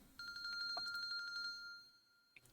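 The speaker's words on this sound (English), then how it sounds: "電話が鳴ってるわ" Phone ringing in a visual novel game: a bright electronic trill with steady repeated pulses for about a second and a half, then fading, with a brief blip near the end.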